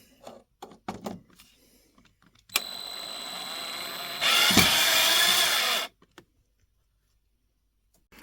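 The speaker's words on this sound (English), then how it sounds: "Electronic screwdriver up. And let's go remove some screws." A power tool whirrs steadily for about three seconds, then a louder, higher-pitched burst follows for a second and a half as screws are driven out of an HO scale model railroad layout, with a few clicks and knocks before and after.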